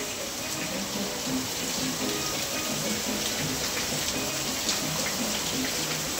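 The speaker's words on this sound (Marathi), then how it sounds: "जोरात खूप पाऊस आहे, खूप जोरात पाऊस आहे" Heavy rain falls outside, a steady, dense hiss of water spattering on surfaces that holds constant and loud throughout, with no voices.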